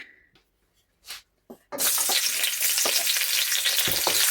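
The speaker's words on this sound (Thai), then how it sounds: "กระเทียมค่ะ ผัดให้หอมนะคะ" Garlic hits hot oil for a Thai spring roll filling and bursts into a loud, steady sizzle that carries on without a break, after a few soft knocks and clatters of preparation before it.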